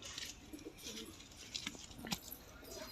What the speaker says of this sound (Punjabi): ਪ੍ਰਿੰਸ ਕਮਗਰ ਕਬੂਤਰ ਜੀ